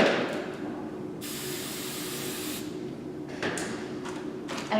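A single close, steady hiss of hairspray sprayed onto hair during a bridal updo, lasting about a second and a half, followed by quieter rustling and small handling sounds.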